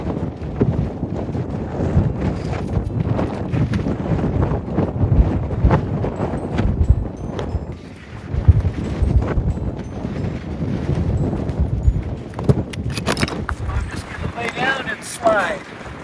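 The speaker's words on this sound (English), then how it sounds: "Up here at the lake, of course, it's windy" Steady wind buffeting the microphone at a mountain lake, a continuous broadband rush with gusts, while people talk now and then.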